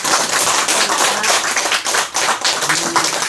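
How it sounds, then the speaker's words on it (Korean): Lively applause from an audience after a lecture at a school event: many hands clapping close by in a dense, loud patter that fills the short stretch, with a couple of slight dips. "오늘 정말 우리에게 좋은 강연을 해주신 전희주 군에게 힘찬 박수 부탁드립니다."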